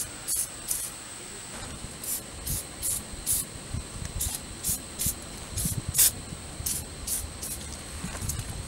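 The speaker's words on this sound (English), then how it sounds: "So I'll start off just kind of spraying them with some liquid penetrant." Repeated short bursts of hissing aerosol liquid penetrant sprayed on rusted Buick LeSabre sway bar link parts, over a low background rumble, about a dozen quick sprays in irregular succession.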